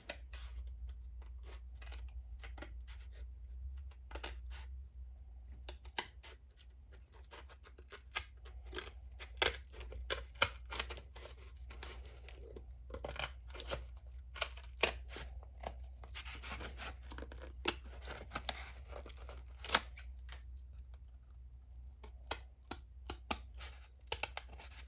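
Cardboard from a 4x8 sheet is cut for a template, with irregular crisp snips, tears and scrapes scattered over a steady low hum.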